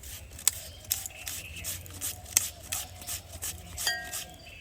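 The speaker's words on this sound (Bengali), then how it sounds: "এই ঘষার মেশিনটা তারপরে যে বড় যেই সাইডটা আছে এটা দিয়ে আমি ঘষে ঘষে এটাকে গ্রেট করে নেব" Raw potatoes rubbed against the large side of a kitchen grater, producing repeated close, light rasping strokes with small metallic scrapes in an uneven rhythm, with no one talking.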